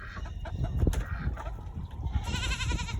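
A goat bleats amid other farm animal noises, with a fowl-like clucking or crowing layered in, all fairly close and steady over a few seconds without speech.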